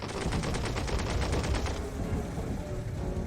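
Rapid bursts of gunfire from a war strategy video game set in the Polish-Bolshevik war, a dense machine-gun-like rattle for about two seconds, then fading into a rumbling tail, loud with no talk.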